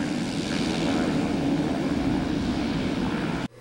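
Steady, loud propeller-engine drone from an Air Force trainer aircraft taxiing and taking off at Ardmore, a continuous roar held throughout and cut off abruptly at the end.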